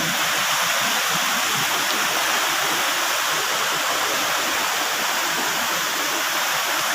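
A mountain stream rushes close by in a loud, constant, full-bodied roar of churning water that stays even from start to finish, with no voices over it.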